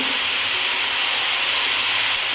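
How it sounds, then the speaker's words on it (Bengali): Chopped spinach cooks in a hot pan with a loud, continuous hissing sizzle of steam, close and even throughout, with no talking. "এবার দিয়ে দেবো কেটে রাখুন পালং শাকগুলো নাড়াচাড়া করে নেব"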